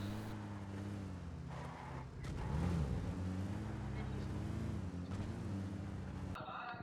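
A car drives through a shooter video game toward Yasnaya's main building, its engine a steady, close drone whose pitch rises and falls as it accelerates, ending abruptly.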